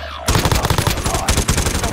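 Rapid automatic gunfire from hostile players in a battle-royale style video game, loud and sustained bursts of close shots with a faint voice underneath.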